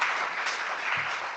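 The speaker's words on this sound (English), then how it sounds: "Big round of applause." Audience applause for a guest being welcomed at a forum event: a steady, dense wash of clapping that holds at an even level for the whole stretch, with no voices over it.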